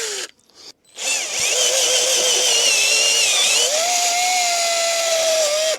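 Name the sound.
electric drill drilling through metal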